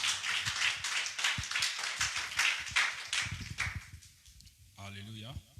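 A church congregation claps at a baptism service, with dense rhythmic hand claps for about four seconds before they die away into a brief hush and then a voice.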